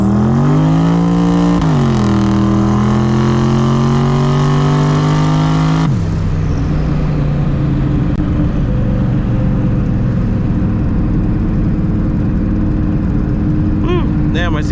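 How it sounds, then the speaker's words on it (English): A twin-turbo Mustang Cobra brake boosts, then accelerates hard from about 35-40 mph on the street. The loud engine drone climbs steadily in pitch, dips once at a shift, then drops abruptly into a rougher, lower roar with road noise. "I'm gonna show you guys some brake boosting at about 35-40 miles an hour."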